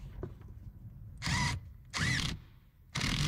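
A bolt and nut on the heater core mount of a 2007 GMC Sierra being tightened, heard as three bursts of power-tool whirring separated by short pauses, close and fairly loud.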